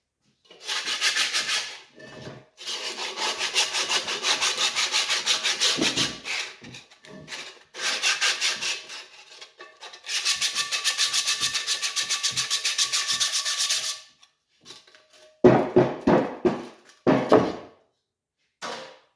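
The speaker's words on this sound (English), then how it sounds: "So I scuffed it up pretty good with that rough sandpaper." Rough sandpaper scuffing a cast iron pot: close, loud rasping strokes in long bursts separated by short pauses, ending in a few choppier scrapes, with no talking.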